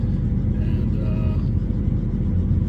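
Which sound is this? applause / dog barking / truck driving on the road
truck driving on the road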